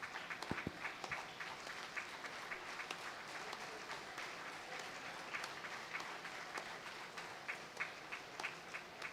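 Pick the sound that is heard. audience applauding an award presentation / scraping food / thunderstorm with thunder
audience applauding an award presentation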